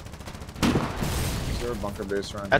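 Gunboat guns fire in the Foxhole video game with a sudden heavy blast that swells into a rumbling barrage. Someone speaks over the fading rumble afterward.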